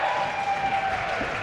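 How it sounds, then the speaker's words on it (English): A live wrestling crowd at an indie show applauds Gangrel, a steady sustained clapping throughout with a faint tone underneath. "listen to the crowd. They're giving their respect to Gangrel."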